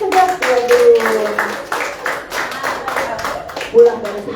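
Church congregation at a Sunday worship service claps hands in a quick burst of uneven rhythmic claps, fairly close, mixed with voices speaking over it.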